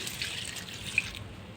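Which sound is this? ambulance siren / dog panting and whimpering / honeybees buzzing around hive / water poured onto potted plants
water poured onto potted plants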